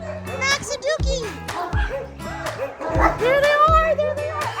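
Several dogs bark in short excited bursts, loud and close, repeating through the stretch while children and adults talk and shout over them.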